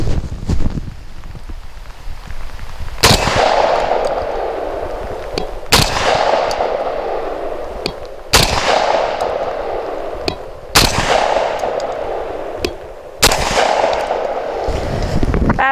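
A Genesis Arms Gen 12 12-gauge shotgun fires outdoors, six loud, sharp blasts spaced roughly two to three seconds apart, each followed by a brief decay, with steady wind noise on the microphone between shots.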